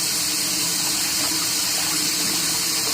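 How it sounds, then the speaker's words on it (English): Cold water runs hard from a tap into a container during T-shirt dyeing, a loud, continuous gushing splash that holds steady throughout with no voices over it. "Put some water in here."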